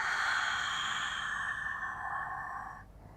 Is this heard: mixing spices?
no